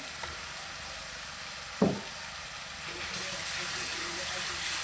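Garlic fries in hot oil ahead of onions, giving a steady close sizzle and hiss with a brief clatter of a utensil partway through, the frying growing a little brighter toward the end.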